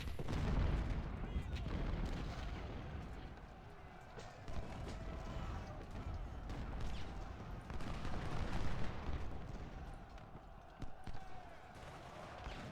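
Civil War artillery guns fire in a strategy game set at the Second Battle of Bull Run, giving a dense, continuous rumble of cannon and musket fire with repeated booms over a busy battle bed.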